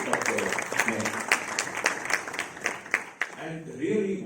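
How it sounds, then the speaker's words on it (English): Audience applause at an Indian chemical industry expo, a steady patter of clapping from a crowd in a hall, fading near the end as a voice begins to speak. "please give a round of applause for them"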